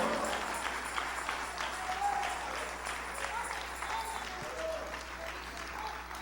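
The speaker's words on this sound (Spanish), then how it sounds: "Dele un aplauso al Señor." Congregation at a Sunday church service applauds, a sustained wash of many clapping hands at moderate distance, with faint voices and a sung or called tone drifting over it.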